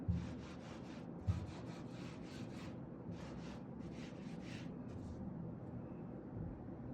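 Hands press and rub across fabric to transfer pattern markings for a kurti, making a soft, steady series of close brushing strokes with a light rhythmic scrape, quiet and without speech.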